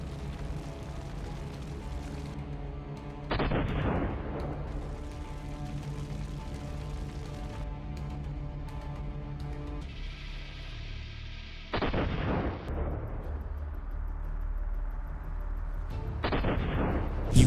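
Heavy booming blasts from a drone strike on tanks and an armored vehicle, three sharp, loud impacts spaced several seconds apart over a constant low droning background.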